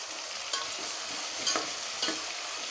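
Onion and tomato fry in a pan for fish curry with a constant, close sizzling hiss and a few soft scrapes from stirring.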